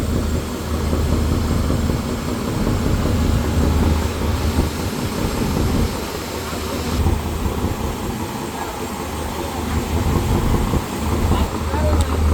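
Mitali 7, a passenger launch on the Buriganga River bound for Ilisha, throbs along with a steady low engine drone and broad rushing wash, loud and continuous with a slight dip midway.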